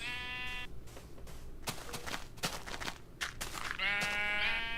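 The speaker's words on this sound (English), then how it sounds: "The player punches a sheep, picking up a wool block." Sheep in a Minecraft-like video game bleat twice, one wavering cry at the start and another near the end, with short clicks and thumps from play in between.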